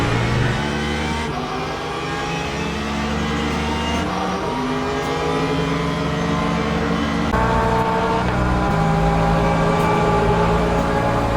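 Mercedes AMG and Porsche race cars battle in Le Mans Ultimate at Mt. Fuji, with a steady, loud engine roar that shifts pitch a few times as the cars change gears down the straight.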